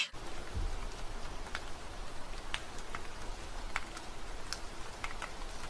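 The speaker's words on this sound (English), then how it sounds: "As you can see, it is raining outside." Rain falling outside, a steady soft hiss with scattered light ticks and drips, continuous and moderately distant, with no voices.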